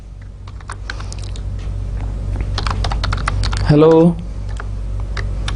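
Fingers clatter steadily on a computer keyboard while C code is written, a brisk run of close key clicks, with a short spoken word breaking in midway.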